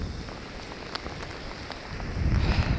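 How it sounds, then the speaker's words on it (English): Steady rain falls on a West Sussex seashore in a continuous hiss, close and fairly loud, swelling heavier toward the end. "If it doesn't stop raining soon, I think I'm gonna head home."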